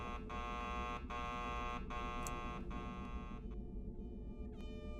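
A video game alarm in a dark, flooded area blares in repeated long buzzing tones with short gaps, loud over a low rumbling background, before shifting to a thinner tone near the end.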